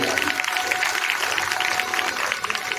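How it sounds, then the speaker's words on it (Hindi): An audience at a Shrimad Bhagwat Katha religious gathering claps loudly and steadily, a dense continuous patter of many hands filling the space with a voice heard faintly underneath. "जोरदार ताली बजा दो"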